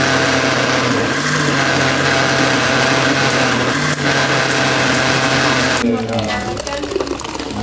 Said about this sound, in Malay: Dia blender dulu lah.